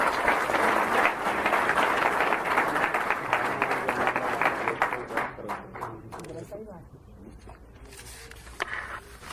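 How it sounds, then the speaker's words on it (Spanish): Audience applause at an international book fair event, dense clapping that gradually thins out and fades to scattered claps by the end. "Un fuerte aplauso a todos ellos."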